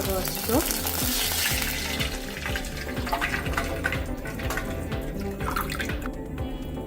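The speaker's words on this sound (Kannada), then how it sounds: "ಇದಕ್ಕಿವಾಗ ನಾನು ನೀರು ಹಾಕ್ತಾ ಇದ್ದೀನಿ ಒಂದು ಕಪ್" Loud steady sizzling and bubbling from a hot pan as a cup of water hits it, with a few stirring scrapes, continuous throughout.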